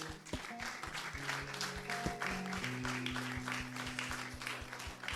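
A church congregation breaks into faint, sustained applause acclaiming the Lord, soft clapping spread through the room and heard at a distance over a low hum.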